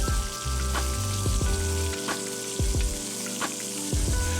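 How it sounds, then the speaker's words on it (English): A dry-aged ribeye steak in a cast iron pan sizzles loudly and continuously while being basted with butter, garlic and rosemary, with repeated spoon taps and scrapes against the pan. "put the butter in the pan, baste your steak"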